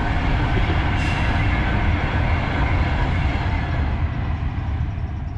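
Train passing beside the Grand Union Canal near a moored narrowboat, a loud, continuous rolling rumble of carriages that slowly eases toward the end.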